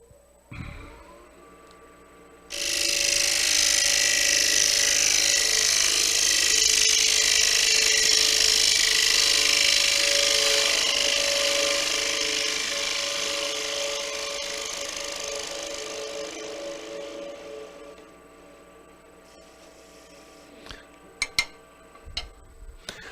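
A wood lathe turns a workpiece during a woodturning demonstration, a loud steady whir with a tool scraping across the spinning wood for about fifteen seconds before it winds down and stops, leaving faint knocks afterward.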